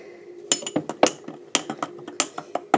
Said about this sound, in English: you want to get yourself a wee spoon and you can stir